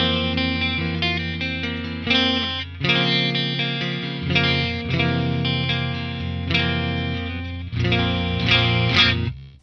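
A Kiesel Kyber electric guitar played through effects on its neck pickup with the coil split, ringing chords and single notes with chorus and some drive, sustained and close, with no talking.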